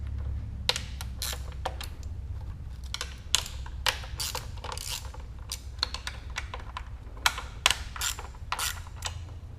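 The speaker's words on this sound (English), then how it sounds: "now I got a much better ratchet to work with" Close, crisp ratchet clicking comes in quick irregular bursts as bolts are turned during engine removal on a Porsche 944 rally car with a V8, with brief pauses between runs of clicks.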